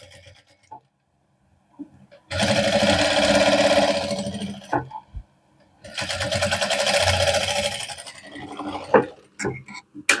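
A sewing machine stitching a round neckline on a garment, two long runs of steady rapid mechanical clatter separated by a pause with small clicks and handling sounds, close and loud.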